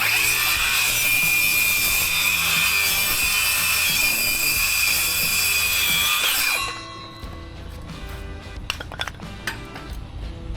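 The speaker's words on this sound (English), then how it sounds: "Circular saw." Circular saw rips through a 2x6 board during a VersaLam support beam install, a loud steady whining cut for about six seconds before the blade spins down, followed by scattered clanks and handling noises.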